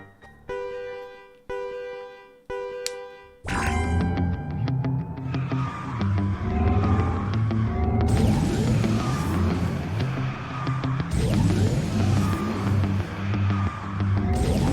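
A Porsche kart in the KartRider racing game: three short countdown beeps, then a loud engine roar with rising and falling revs, tire squeals and drift skids running continuously, close and alone.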